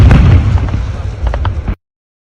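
Loud, dense crackling and booming bursts of fireworks and explosions during an attack on a Wildberries facility in Moscow, a continuous heavy roar with popping that ends abruptly.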